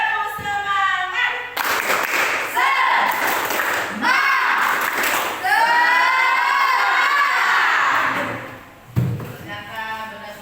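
Children in a classroom repeat a spirited clap chant, bursts of group clapping mixed with loud shouting voices up close, ending with a brief drop before a final hit.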